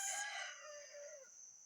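A young rooster crows once, a strained, high-pitched call that rises and then trails off as it fades, close by on a farm with no other noise around.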